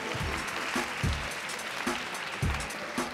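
An audience at a Korean school quiz contest applauds steadily, a dense, fairly loud wash of clapping from many hands filling the few seconds without any speech.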